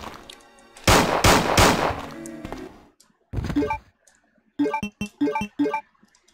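Rapid gunfire from a high fire rate weapon in Resident Evil 2 (1998) while fighting zombies: one long sustained burst, then a shorter burst, then several quick choppy bursts. The shots are loud and close.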